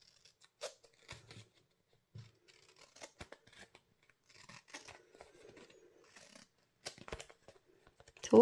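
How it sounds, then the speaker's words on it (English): Scissors trim excess tape from black cardstock in a series of short, crisp snips and small paper rustles, close and quiet with pauses between cuts. "I just want to trim any excess of the tape off."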